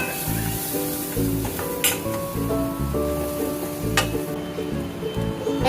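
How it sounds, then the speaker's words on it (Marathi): Spinach is stirred into a hot pan for garlic palak, giving a steady close sizzle with scraping spoon strokes and occasional clinks against the pan. "आता आपण जी पालक थोडी काढून घेतली ती याच्यात टाकायची आहे. त्याला मिक्स करायचं आहे."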